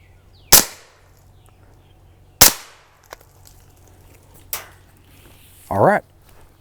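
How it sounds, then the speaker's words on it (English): A suppressed Glock pistol firing subsonic rounds downrange, giving three sharp, muffled cracks spaced about two seconds apart against a quiet outdoor background, then a brief squeaky chirp. "So now we're going to put a couple rounds down range through the suppressor."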